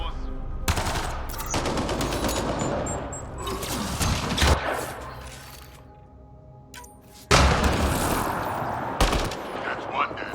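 Outlaws fire bursts of gunfire in the Mass Effect: Andromeda video game, with loud rapid volleys, sharp single shots and heavy thumps that come in waves with brief lulls between them.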